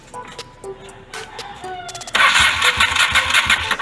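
A Honda Steed 400 motorcycle with a single-carb conversion cranks with a few clicking, whirring starter bursts, then fires and runs loud and rough close by, its uneven idle continuing to the end.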